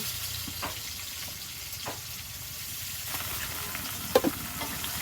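Onion fries in oil with bay leaf, cloves and cardamom in a pot over a village clay stove, giving a steady moderate sizzle with occasional utensil knocks and a brief clatter near the end.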